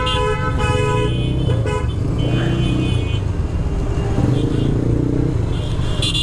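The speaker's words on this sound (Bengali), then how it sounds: "একসাথে অনেকগুলো বাইকার হওয়ার কারণে আসলে মানে পুরো রাস্তায় জ্যাম লেগে গেছে" Many motorcycles packed in a traffic jam on a narrow village road in Manikganj, engines idling and revving close by with repeated horn toots over a dense, continuous roar.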